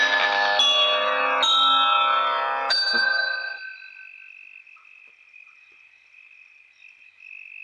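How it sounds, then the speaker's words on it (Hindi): Several bright bell strikes ring out in quick succession, each with shimmering overtones, then a single high tone lingers and fades slowly into quiet. "तुम दोनों घंटी बजाते रहना"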